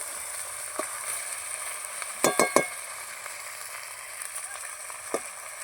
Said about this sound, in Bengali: এটা সুন্দর করে ভেজে নেব।